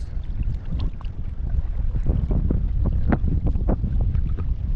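Strong wind at sea roars and buffets the microphone aboard a fishing boat heading out, with constant rumbling gusts and splashing water bursts throughout, no speech.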